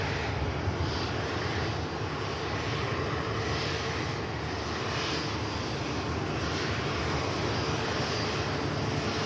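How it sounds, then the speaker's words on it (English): A TUI Boeing Dreamliner jet departing Manchester Airport for Punta Cana, its engines producing a loud, steady broadband roar that holds constant throughout, with no voices. "we're going to get the TUI Dreamliner for Punta Cana out of here"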